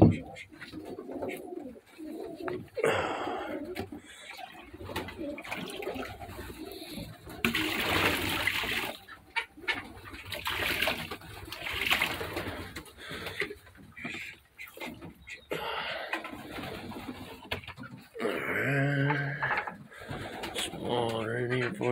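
Pigeons coo softly in a loft, the low calls recurring under scattered movement, water sounds and occasional human noises.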